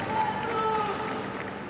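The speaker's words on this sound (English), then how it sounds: "he walks up the aisle to continue the service, to applause from the shocked congregation" A church congregation applauds the Pope during a service, a steady, dense wash of clapping that is somewhat muffled and continuous, with a faint murmur of voices mixed in.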